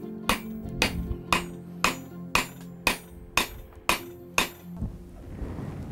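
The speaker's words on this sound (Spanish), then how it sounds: "La hoja se forja tradicionalmente a partir de mineral de hierro de origen local." Hammer blows ring out on an iron knife blade being hand-forged from local iron ore in a cold Yakutian village, about nine sharp metallic strikes at a steady pace, close and clear, then the striking stops.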